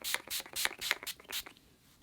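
Several quick hisses of ultra matte setting spray, about six short bursts in a steady rhythm, close and bright, then stopping into quiet.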